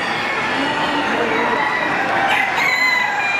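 Several Brahma chickens at a poultry show clucking and crowing together in a busy, noisy chorus, one rooster's crow rising near the end.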